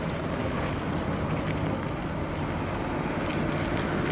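A green 1967 Ford Galaxie 500 convertible with a 428 V8 cruising, its steady engine drone and road rumble mixed with heavy wind buffeting across the open top, continuous and fairly loud throughout.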